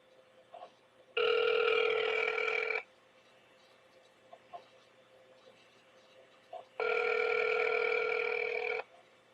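Two long electronic telephone rings, each about two seconds, separated by a quiet pause, come through a phone line while calling an answering machine number.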